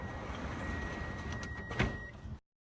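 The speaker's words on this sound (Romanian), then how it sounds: "Se închid ușile." Bombardier metro train doors close with a steady warning tone over the train's hum, then a firm clunk as they shut and a final rattle before sudden silence.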